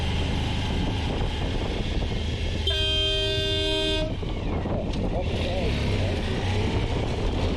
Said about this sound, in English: I'm guessing he has an air horn.